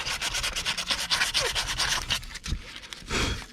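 A Peugeot 407 front pivot arm axle bush carrier being sanded by hand with 400 grit sandpaper, rapid back-and-forth rubbing strokes close up, fairly steady with brief pauses and no talk.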